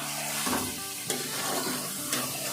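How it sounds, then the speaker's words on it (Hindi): Yogurt and tomato paste for a beef curry are fried on high heat, giving a steady close sizzle with a few sharp scraping stirs of a spoon against the pan. "अब तेज आंच हमने रखनी है ताकि इसको अच्छे से हम भून लें।"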